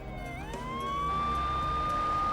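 A police car siren winds up and then holds a steady, loud wail, close by and alone, with no talk.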